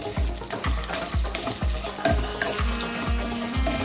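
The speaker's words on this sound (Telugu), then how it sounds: "దీనిలో వేసి చక్కగా ఎర్ర రంగు వచ్చేదాకా వేయించుకోవాలి" Crushed garlic frying with bitter gourd in a pan, a loud, steady sizzle broken by regular scraping strokes of a spatula roughly every half second.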